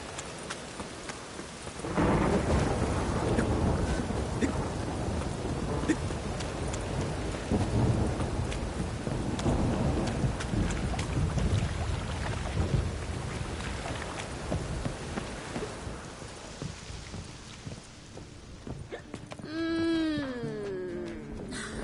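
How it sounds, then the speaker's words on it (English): Heavy rain pours steadily with low rolling thunder rumbling through it for most of the stretch in the video game The Witcher 3; near the end the downpour eases and a high warbling call briefly stands out. "A storm, damn it."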